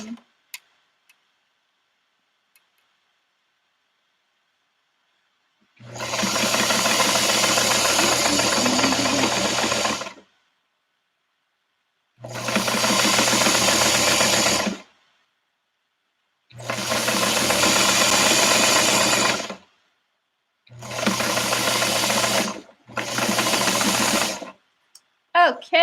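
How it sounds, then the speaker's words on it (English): A sewing machine stitching a quarter-inch seam in fabric with thread runs in five loud, close bursts of rapid whirring, separated by short pauses as it goes forward and back. "we go forward, we go back, forward again, and we're sewing this little 1/4 inch seam"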